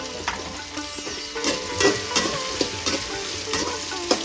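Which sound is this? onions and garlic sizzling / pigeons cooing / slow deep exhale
onions and garlic sizzling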